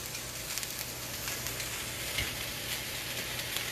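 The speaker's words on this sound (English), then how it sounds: "you hear that sauteing up nicely?" Smoked turkey sautés in a pan with cabbage, a soft continuous sizzle and crackle with small pops, fairly quiet and steady, with no voices.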